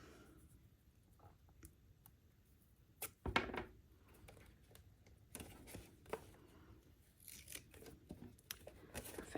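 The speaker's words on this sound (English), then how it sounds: "And now we can tape." Tape pulled and pressed onto folded gift wrapping paper on a small box, with a few short tearing and crinkling bursts and soft paper handling sounds, quiet and close, no speech.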